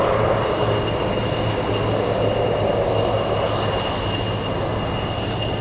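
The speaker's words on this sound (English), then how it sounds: "there's a Nippon cargo that took off from Anchorage going to Frankfurt" A Nippon Cargo airliner takes off from Anchorage airport, a steady, loud broadband jet roar with a low hum that holds evenly throughout.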